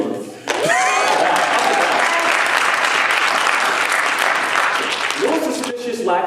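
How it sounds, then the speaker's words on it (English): A studio audience bursts into loud, sustained applause with scattered cheers, starting abruptly and tapering slightly at the end as a voice comes back in. "No suspicious lack of applause there"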